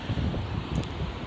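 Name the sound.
wind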